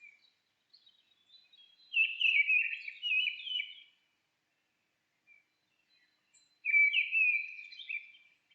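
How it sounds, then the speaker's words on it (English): Mistle thrush singing two short, fluting phrases several seconds apart, clear and moderately close against a silent background. "Mistle thrush sounds similar to blackbird, but with shorter, more melancholy phrases."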